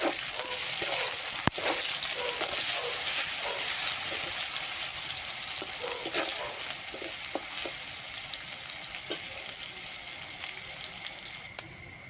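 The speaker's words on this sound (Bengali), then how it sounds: "পেঁয়াজ রসুনটা হালকা ভেজে নিয়েছি" Onion and crushed garlic fry in oil with a bright, continuous sizzle and light crackle close by. Occasional soft clicks of stirring come through, with no talk.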